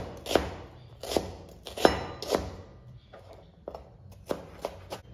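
A piece of onion is chopped with a knife on a cutting board in a run of sharp, close thunks, several in quick pairs with short pauses between, and nobody speaking.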